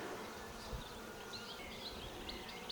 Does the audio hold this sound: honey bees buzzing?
yes